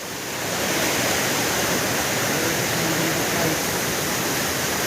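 A waterfall somewhere below a mountain sends up a steady, broad rushing roar, constant and fairly distant, with no voices over it.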